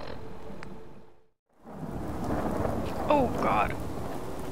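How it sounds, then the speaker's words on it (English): Steady rain with a low rumble of thunder from the video game Fallout 4, a continuous wash of sound briefly dropping out before returning, while someone speaks over it. "Oh, it's starting to rain."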